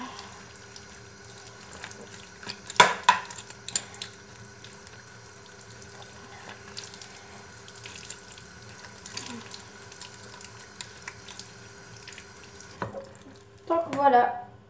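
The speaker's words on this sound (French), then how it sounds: "Et puis vous continuez vite fait à rincer votre petite longe." Running water flows steadily from a tap while a horse's lead rope is rinsed, with a few splashes and sloshing handling noises and a burst of splashing at the end.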